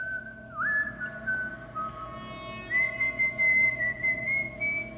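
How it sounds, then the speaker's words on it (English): A lone, slow, off-key whistled tune outside around midnight in the countryside, wavering in pitch, drawn-out notes carrying faintly over a quiet background hum. "I was almost asleep when I heard whistling outside."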